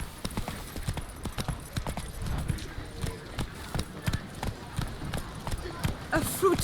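Horse hooves gallop in a steady, rapid clip-clop rhythm while riding in The Witcher 3, a continuous patter of sharp thuds heard close under intermittent voices and game ambience.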